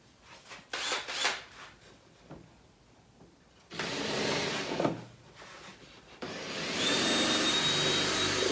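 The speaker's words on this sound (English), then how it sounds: "I'm just going to drill that out a little bit with a slightly larger hole." A power drill enlarges a hole in a console table, several short bursts of whirring and grinding at first, then two longer sustained runs, loud and close.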